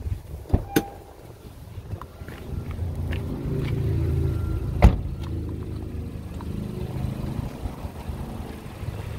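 The sunroof motor of a 2018 Honda Pilot Touring hums quietly inside the cabin, a low steady whir with a few clicks and thumps over faint background rumble.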